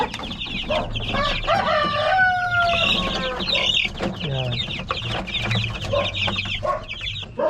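Chickens and half-grown chicks that have lost their downy feathers, clucking and peeping busily up close, with overlapping chirps, cackles and calls in a continuous farmyard chorus.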